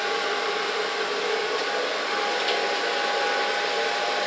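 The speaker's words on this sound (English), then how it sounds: "Start blow drying on the back." Hair dryer blowing steadily on the back of a woman's hair during styling, a continuous loud broadband whoosh with no pauses and no talking.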